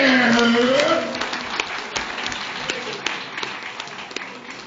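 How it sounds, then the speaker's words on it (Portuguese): A stand-up comedy crowd breaks into applause; the first second overlaps the comedian's voice, then steady dense clapping fills the room. "Machado de Assis, palmas para ele!"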